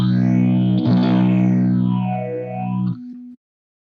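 Electric guitar played through a digital phaser pedal on its 12-stage setting, a sustained chord with a sweeping phase shift and extra clean signal blended in, loud and alone, cutting off briefly near the end.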